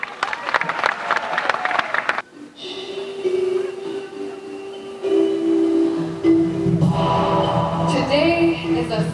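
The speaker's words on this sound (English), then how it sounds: "Hand clap for them." Awards ceremony crowd clapping for a spoken word performance act, a burst of loud applause that cuts off abruptly, then gives way to sustained tonal music and hall ambience with swelling sounds.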